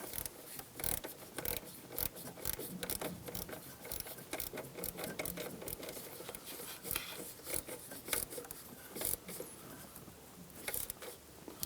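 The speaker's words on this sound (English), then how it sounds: "Using a 13mm socket, snug down the nut." A 13mm socket on a ratchet snugs down the starter cable nut on a 2010-2014 Subaru Outback 2.5L H4, giving a dense run of quick clicking ratchet strokes, close and steady for the whole stretch with no talk.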